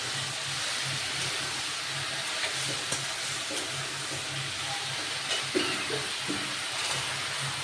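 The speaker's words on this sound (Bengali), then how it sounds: "এবার মশলার সাথে ডুমুরটা ভালো করে কষে নিতে হবে।" Figs sizzle and fry with spices in a pan, a steady close hiss of hot oil with occasional stirring scrapes and clinks throughout, no voices.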